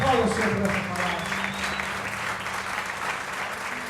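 Congregation clapping steadily in a church service, a sustained wash of many hands beneath continuing speech and background music.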